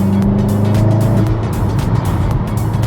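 A VW Golf engine, either MK7.5 GTI or Golf R, fitted with a changed air intake and turbo elbow, drones loudly and steadily up close with a rising and falling tone, like a car on the move.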